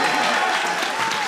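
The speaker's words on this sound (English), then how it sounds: "Let's get a round of applause for that." Audience at a live panel event breaks into steady, dense applause, brief and fairly loud with crowd noise mixed in.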